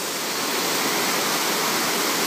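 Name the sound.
running water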